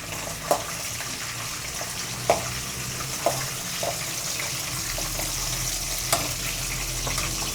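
Steady sizzling of spices and green chillies tempering in oil on low heat, with a few sharp clicks and stirring taps, close by, with no talking.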